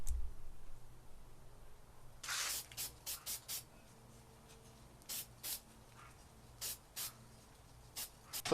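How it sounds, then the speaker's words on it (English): Chrome spray paint hisses from a can onto small plastic car parts in short bursts: one longer spray, then a series of brief sharp puffs separated by quiet pauses, close to the mic. "repaint them with probably some phony chrome"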